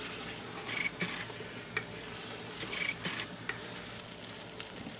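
Continuous sizzling in a pot with occasional scraping clinks of a utensil as jareesh (cracked wheat) with camel meat is stirred steadily.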